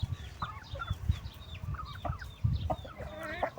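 Chickens cluck and squabble on a cattle farm as they push in to compete with calves for feed, short clucks repeating at close range over a low, rumbling background, with no talk.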